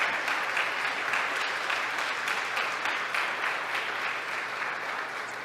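A church congregation claps together during a sermon, a broad, even roar of many hands lasting over five seconds with no voices standing out, gradually softening toward the close.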